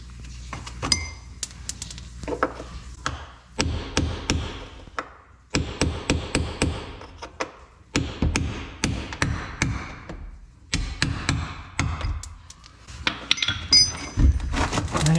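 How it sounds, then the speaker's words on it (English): Metal tools bang and clink while rivets are busted out of an Argo ATV belly pan skid plate, sharp close strikes coming in irregular clustered bursts with short pauses between. "I'm going to bust these rivets out of here."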